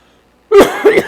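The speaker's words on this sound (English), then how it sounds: "It's an allergic cough, and it's very annoying." A single allergic cough from a man mid-lecture, loud and close, two quick bursts after a moment of silence.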